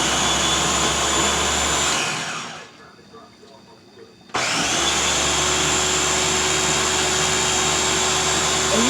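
Homemade sauce being pureed in a kitchen blender, a loud, steady whirring roar that cuts out briefly midway before resuming at full strength and running on continuously.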